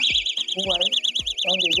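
A shrill, warbling electronic door-stop alarm wails continuously and loudly while someone talks over it.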